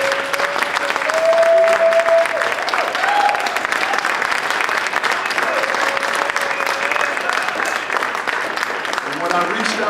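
Sustained applause from a large audience at an awards celebration for the Restorative Vote Initiative, steady and loud throughout with voices audible over the clapping.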